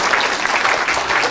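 A church congregation applauding and cheering for Jesus, a thick continuous wash of clapping with cheering voices swelling in waves throughout, loud and close.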